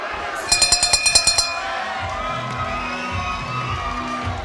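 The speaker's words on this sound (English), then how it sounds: "Crowd relatively pleased," Crowd at a boxing match cheering in a steady, moderate roar, opened by a brief burst of bright bell-like ringing that fades into the sustained crowd noise.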